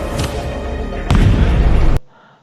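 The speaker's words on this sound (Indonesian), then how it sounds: "mercon yang suaranya menyerupai bom" A firecracker goes off with a loud, bomb-like boom in a film scene, a heavy sustained blast with a second surge of rumble before cutting abruptly to near silence.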